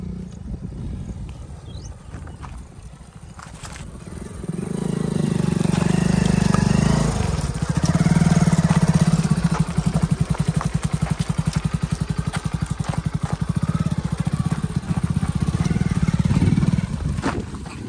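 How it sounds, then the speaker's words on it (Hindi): A Mahindra Arjun Novo tractor arrives at a field for paddy sowing. Its low diesel engine rumble swells in about a quarter of the way through, then holds a loud, steady chugging drone close by with no voices. "ट्रैक्टर पहुँच गया है सामने।"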